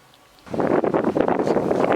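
Gusty wind buffets the microphone after a brief quiet start, a loud rumbling roar with rustling bursts that rise and fall.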